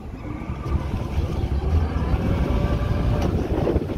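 A 2011 Sea Hunt 207 boat with hydraulic steering, its outboard engine running in reverse, a steady loud low rumble with wind noise across the microphone and no talking.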